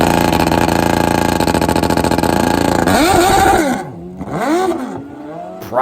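A nitrous-fed, stretched GSXR 1000 drag bike revs hard with a loud, buzzing sustained roar, then the engine note drops and blips in sharp rising and falling revs.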